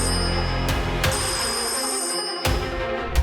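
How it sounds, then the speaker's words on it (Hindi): A telephone rings with a steady electronic trill, loud and continuous, with a few sharp clicks breaking through the tone. "थोड़ी दूर में कमरे के टेबल पर रखा फोन अचानक बजता है।"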